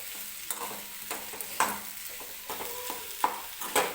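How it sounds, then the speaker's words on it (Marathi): A spoon stirs and scrapes a potato mixture sautéing in a pan, giving soft irregular clinks and scrapes over a faint, continuous sizzle, close and fairly quiet. "एक 2-3 मिनिटं फक्त हा बटाटा आपल्याला असाच परतून घ्यायचा आहे"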